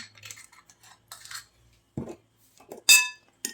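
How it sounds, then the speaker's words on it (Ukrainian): A spoon stirs oil and spices into a spicy dressing for a fresh cucumber and vegetable salad, giving sparse, quiet clinks against the bowl with short silent gaps between them. "Так, все добре, зараз перемішаємо"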